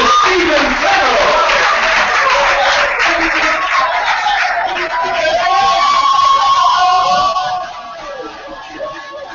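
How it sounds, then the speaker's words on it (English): Wedding guests give the groom a loud, sustained round of applause with crowd cheering, dense and close, easing off near the end. "Let's give him a round of applause as he stands up."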